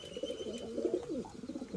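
Pigeons coo softly inside a loft, a low rolling burble of overlapping calls that continues throughout, close but quiet, with no voices.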